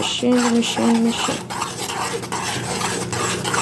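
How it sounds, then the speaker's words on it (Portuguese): A spoon stirs flour into boiling liquid in a pot while making coxinha dough, giving steady, close scraping and swishing over a continuous bubbling, sizzling background. "Agora você vai colocar as 2 xícaras de farinha. E você vai mexendo."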